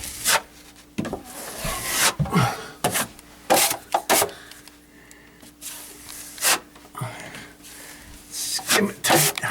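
A drywall knife skims a second coat of Easy Sand 5 joint compound over a patch, giving repeated scraping, rasping strokes in uneven bursts, close by, with someone talking between passes.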